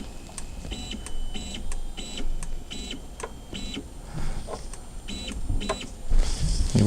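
A Tevo Tornado 3D printer drives its bed along the Y axis in short repeated bursts, each a whining stepper-motor tone rising and stopping in steady rhythm, close and clear with no talk.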